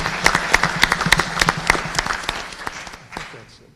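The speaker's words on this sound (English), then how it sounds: "Round of applause, please." A crowd at a Concord school board meeting claps loudly for a retiring staff member, with close, distinct individual claps in a quick rhythm that gradually taper off near the end.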